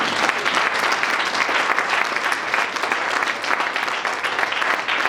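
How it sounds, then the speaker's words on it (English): A church congregation clapping hands together, a steady, dense round of applause filling the room at even strength from start to finish. "Let's clap our hand for Jesus."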